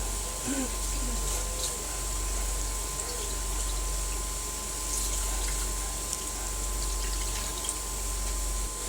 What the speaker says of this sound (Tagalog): So this time po maglalagay tayo ng tubig.